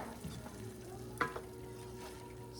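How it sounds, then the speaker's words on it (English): Crushed tomatoes and garlic stirred in a frying pan, giving a quiet, steady sizzle with soft scraping strokes and one brief clack of a utensil near the middle. "Stir it around."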